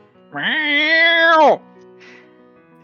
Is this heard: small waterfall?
no